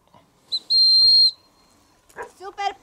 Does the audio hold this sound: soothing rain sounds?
no